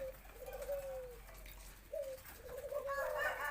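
Young spotted doves give several drawn-out coos, moderately loud and near, with short gaps between calls and a brighter chirping bird sound joining near the end.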